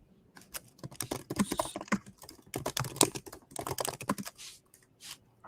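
Rapid, irregular keystrokes clatter on a computer keyboard while a command is entered at a command-line prompt, arriving in quick bursts with brief pauses between them, close and alone with no talking.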